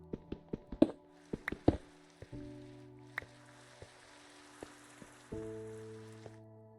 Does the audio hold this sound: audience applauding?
no